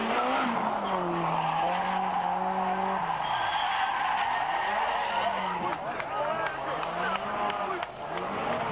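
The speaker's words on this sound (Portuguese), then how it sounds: "até que na primeira passagem por Chimpeles teve que enfrentar um aparatoso peão" A rally car spins out at the 1990 Rota do Sol rally, its tyres skidding and screeching across the stage while the engine revs rise and fall, heard under a broadcast commentator's continuous talking.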